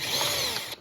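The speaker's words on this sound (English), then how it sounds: "Gotta cock the drill off to the side." A power drill bores out the rivets holding the floppy drive port on an Apple IIGS board, a loud, steady high-pitched whine that cuts off abruptly near the end.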